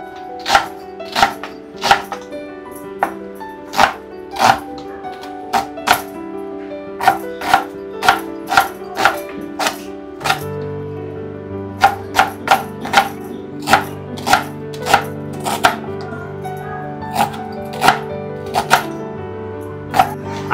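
Onion being chopped on a board at home before cooking a dry spinach dish, a loud close knife striking steadily and rhythmically throughout, with a brief pause partway.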